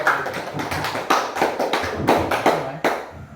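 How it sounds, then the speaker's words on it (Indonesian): An audience at a school gathering claps for Ibu Juwita, a dense burst of many hands tapping irregularly, fairly close, with no voices. "tepuk tangan untuk Ibu Juwita"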